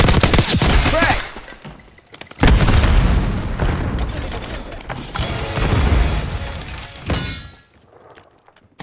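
A frag grenade goes off in a multiplayer shooter, a loud booming blast standing out amid ongoing gunfire and battle noise, followed by a quieter lull.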